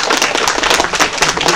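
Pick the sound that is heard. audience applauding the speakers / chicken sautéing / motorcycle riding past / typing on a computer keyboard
audience applauding the speakers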